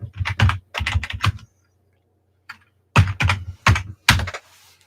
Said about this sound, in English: Oh, look, I can type something.